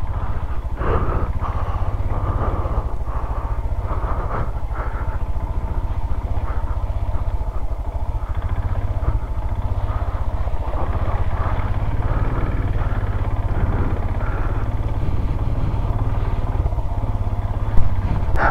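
Motorcycle engine running steadily on a rough off-road mountain trail, a continuous close rumble with slight rises and clatter throughout. Rear-tyre skidding cannot be made out as a separate sound.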